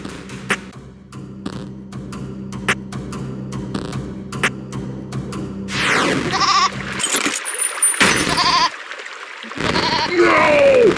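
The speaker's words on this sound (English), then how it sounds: "No! The goat was alive!" A goat bleats in the video game There Is No Game, heard amid glitchy electronic tones, clicks and a steady hum, with a burst of louder distorted game noise toward the end.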